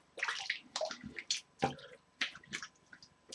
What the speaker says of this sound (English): So I'm gonna just give a quick rinse here.